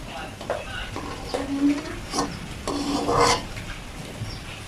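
Coconut milk bubbling in a pot for a stir-fry, stirred with a utensil that gives irregular scraping strokes over a low simmering hiss, close by, with a voice talking faintly at times.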